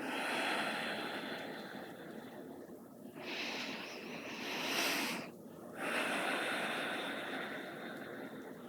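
Slow deep breathing during a chair yoga class for seniors, with long hissing inhales and exhales repeating steadily, close and fairly quiet, with no talking.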